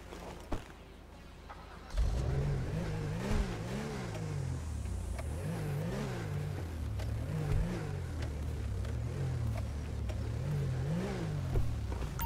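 A Lamborghini Urus engine in GTA 5 idles, then rises and falls through repeated revs from about two seconds on, close and steady with no talk.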